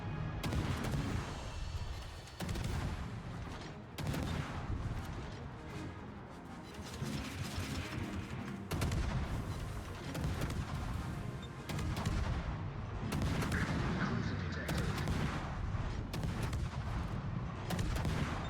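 Naval guns boom and rumble continuously during a warship video game battle, heavy artillery fire layered with crashing impacts and dense gunfire across the whole stretch, loud and unbroken.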